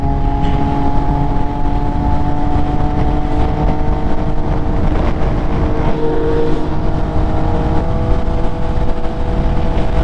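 An MV Agusta F3 motorcycle rides along with a steady, loud engine drone and sustained tonal whine that holds throughout, the pitch shifting slightly as it moves, with no talking.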